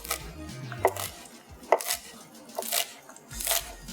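Sharp knife chops through green onions on a cutting board while making Thai fried rice, a handful of distinct close thuds spaced irregularly with quieter cuts between them.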